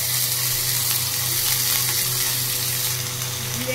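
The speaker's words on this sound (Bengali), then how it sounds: "এরপরে আদা বাটা দেবো," Ginger paste hitting hot oil already seasoned with whole spices and a bay leaf, giving a steady, close frying sizzle that holds evenly throughout with no voices.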